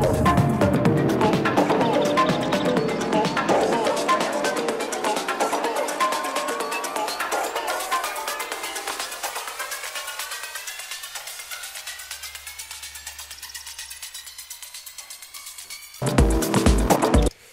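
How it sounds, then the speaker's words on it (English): Custom rotor warp effect sweeping over a dance track during an Ableton Live DJ set, a dense swirling wash that gradually thins and swooshes before a loud burst near the end, with no talking. "this rotor effect I built quite a while ago and I've refined over time"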